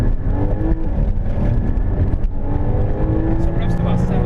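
A Porsche Boxster S flat-six pulls hard under acceleration, its engine note rising and droning loudly from inside the cabin, with a steady roar and road noise throughout.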